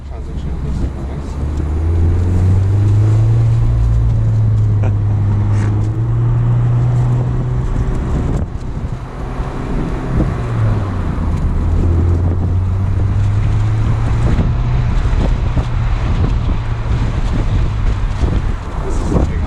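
A 2021 Mazda MX-5 with a naturally aspirated 2-liter engine pulls through second gear with the top down, a loud rising engine drone under heavy wind rush, with people talking over it.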